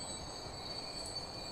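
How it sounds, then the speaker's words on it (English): Train running in the Transport Fever video game, a steady faint rumbling rail noise with a thin high-pitched whine held throughout, no voices. "There's a train coming out here."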